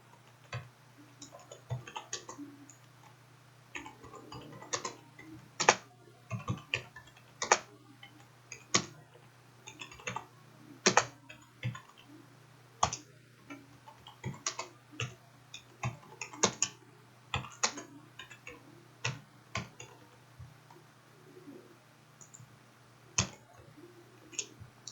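A computer keyboard gets typed on in irregular bursts of sharp, quiet clicks and taps, fairly close, with a faint steady hum underneath and no talk.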